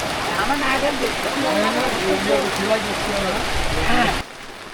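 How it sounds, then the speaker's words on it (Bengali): Heavy rain pours steadily in a village, a dense continuous roar of drops on surfaces that runs for about four seconds, then cuts off abruptly into near silence. "মানে বৃষ্টি যখন শুরু হয় একেবারে ঢালা বৃষ্টি হইতেছে"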